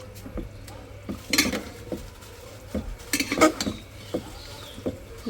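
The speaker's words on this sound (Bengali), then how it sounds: "সব মশলা দেওয়া শেষ এখন শুধু কষাবো আস্তে আস্তে" Spiced meat being stirred slowly in a pot, with scattered clinks and scrapes of a utensil against metal over a quiet background and several brief louder knocks.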